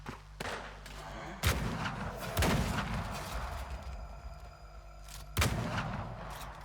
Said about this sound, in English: The shotgun is not great for this.